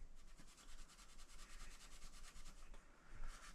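Fret ends of a replica Dimebag Darrell guitar being smoothed with sandpaper, a steady close rubbing and scratching that runs in quick back-and-forth strokes with no speech.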